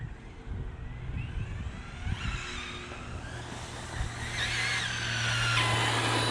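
A Hosim Mojarco 1/8-scale 6S RC car drives on its first run and does a four-wheel burnout, a whining electric motor and hissing tire scrub rising in strength as it runs, with no one talking.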